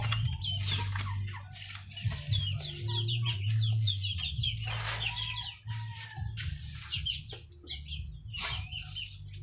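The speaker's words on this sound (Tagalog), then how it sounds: "dito naman yung aking mga darag yung mga sisiw" Darag native chicken chicks peep and cluck in a rural yard, with busy overlapping high chirps and soft clucks close by, over a low steady hum.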